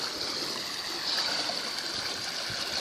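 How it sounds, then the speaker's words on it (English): Water in a new koi pond circulates steadily and spills into the skimmer, driven by an Oase 16,000 pump and a smaller pump feeding a waterfall, giving a continuous close rushing trickle with no pauses. "the water flow rate's coming round and everything cycles round past and disappears quite nicely into the skimmer there"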